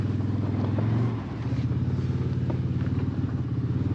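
A 2025 CF Moto Uforce 800 XL four-seat UTV engine runs while the machine sits stuck and high-centered, a steady low throbbing drone that dips briefly and then holds a rough, pulsing idle close by.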